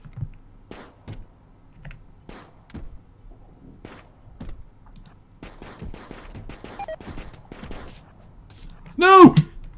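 Rimworld shootout gunfire: a few sharp shots scattered across the scene, among clicks and thuds, ending in a loud, ringing burst near the close, with no one talking.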